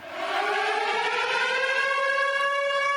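A civil defense siren wails as one steady, slowly rising tone, sustained and clear throughout with no talking.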